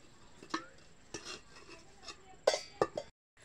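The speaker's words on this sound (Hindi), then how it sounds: "काना ने भात खाया था और बर्तन नहीं धोए थे, तो काना अब धो रही है बर्तन।" Dishes, pots and pans being washed by hand at dusk in a rural Indian home, with scattered sharp clinks and clatters of metal utensils knocking together, fairly close, without talk.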